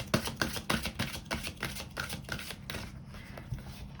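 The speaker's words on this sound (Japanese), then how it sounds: "あなたのチャレンジを応援するカードも引いていきます" Oracle cards shuffled and drawn during a card reading, a run of soft papery riffles and flicks in quick irregular bursts, close and moderately quiet, fading toward the end with no talking.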